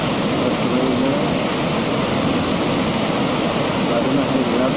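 Steady roar of rushing water from the waterfall at Great Falls, a continuous broadband wash with no breaks, loud and close throughout.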